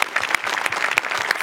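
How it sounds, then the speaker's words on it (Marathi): Studio audience applauding during a Marathi television comedy show, a burst of dense clapping with sharp individual claps standing out, close and lively. "जोरदार टाळ्या पुन्हा एकदा"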